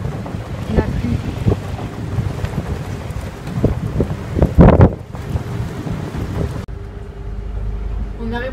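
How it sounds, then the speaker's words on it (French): Strong wind buffets a sailboat on open water ahead of a thunderstorm, a steady loud roar with gusting microphone noise and sea wash. Near the end the wind drops away sharply to a quieter rumble. "le vent est super gros monté, puis on s'en va dans un orage"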